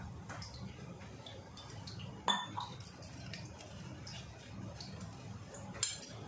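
Spoon clinking against a steel bowl while turmeric, salt and chili masala are mixed for masala fried eggs, light scattered taps with two sharper clinks, under quiet room noise and faint speech.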